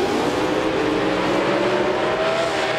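A 611 cubic inch 1969 Firebird drag car roars down the strip at full throttle, a loud, sustained engine howl with a rising pitch as the car pulls away, with no talk over it.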